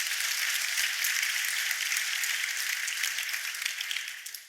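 A conference audience gives one more round of applause for panelists, dense and steady clapping that fills the room and holds at an even level before tapering slightly at the close.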